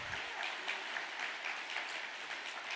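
An audience claps steadily for a few seconds at a religious gathering, the sound fairly faint and diffuse, with no voices on top.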